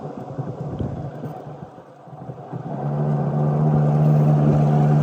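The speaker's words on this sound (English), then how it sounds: "unfortunately this outboard is just not reliable" An unreliable outboard boat motor sputters unevenly at first, then settles into a steady droning hum that grows louder and holds.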